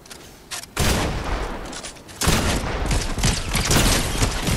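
Loud, close gunfire in a video game, with dense bursts of shots that start abruptly and keep going, then a second heavy barrage, and no talking over it.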